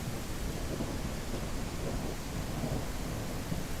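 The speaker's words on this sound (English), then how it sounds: "the sound of thunder absolutely colliding with the microphone" Thunder in a dinosaur survival game booms heavily through a steady rain wash, a loud, saturated rumble filling the whole stretch as though crashing against the microphone.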